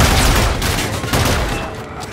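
Loud, dense gunfire from a Call of Duty: Infinite Warfare battle, with rapid overlapping shots and booming reports filling the whole moment.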